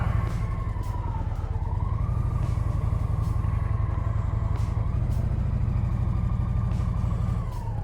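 A heavy 750 lb motorcycle idles and creeps along at low speed through a cone-course skills test, its engine a steady loud drone held throughout, with a siren-like whine wavering faintly in the background.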